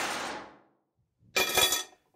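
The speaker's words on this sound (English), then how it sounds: "with the keys being dropped on a frying pan," Keys dropped onto a frying pan give a bright metallic clatter that rings out and decays over about half a second, then a second, harsher rattling crash follows after a short silence, close and loud.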